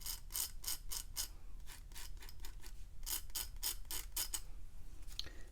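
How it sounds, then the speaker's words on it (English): A pen nib scratches rapidly across paper while inking Inktober drawing outlines and patterns: a steady run of short, rasping strokes in quick rhythmic bursts, close and fairly quiet, with a brief pause midway. "I'm scratching and making all this noise"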